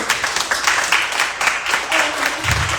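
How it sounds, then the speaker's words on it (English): An audience at a Jersey City mayoral candidate forum on food applauds a panel, a dense steady patter of many hands filling the room, with some voices mixed in. "So can we just give this panel a round of applause?"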